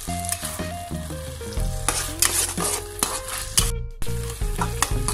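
Soy sauce and chili sauce for Indo-Chinese dragon chicken are stirred in a hot pan, a steady sizzle broken by spoon scrapes, with music playing in the background.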